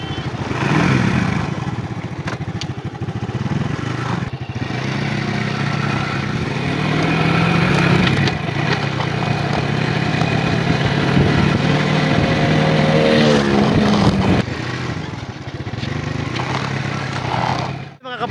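A Rusi Delta motorcycle, downgraded from 125 to a 100 carburetor, runs steadily on a test drive, its mid-pitched engine droning continuously with wind rush and clatter throughout.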